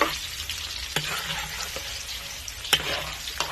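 Onion and garlic sizzle steadily while being sautéed in a pan for pancit guisado, with a few sharp clicks of stirring against the pan, nearby and alone.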